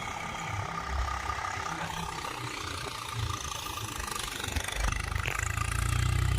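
Swaraj 735 FE tractor engine running in second gear, a steady close diesel drone with a low throbbing rumble that grows slightly louder toward the end, no voices over it.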